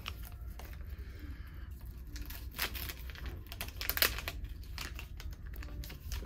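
Packaging being peeled off a leather grip: close, quiet crinkling and tearing with small crackles and ticks, uneven and scratchy over a few seconds.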